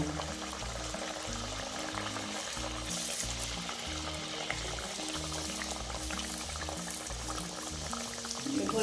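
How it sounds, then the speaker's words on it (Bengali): Green mung dal kachori deep-fry in oil over low heat, a steady, even bubbling hiss that runs unbroken and close throughout, with a slight swell at the end and no talking. "এইভাবে আমি সবগুলো ভেজে নেব"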